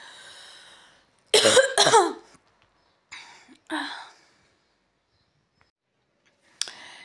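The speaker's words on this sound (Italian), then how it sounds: "venuto pure un colpo di tosse" A couple of sharp, close coughs burst out after a quiet stretch, followed by a smaller cough and a short catch of breath at the end.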